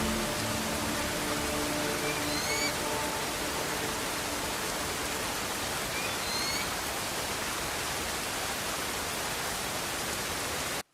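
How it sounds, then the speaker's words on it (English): Steady, even hiss of rainfall in the video game Crimson Desert, a dense uniform patter with a few faint tonal chirps early on, cutting off abruptly at the end. "That rain effect as well"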